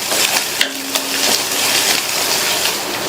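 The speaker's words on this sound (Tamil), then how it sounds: "இப்போ இந்த மிளகாவையும் லேசாக வதக்கி விட்டுட்டு" Green chillies sautéing in a pan, a steady soft sizzle with a few light clinks of a utensil against the metal.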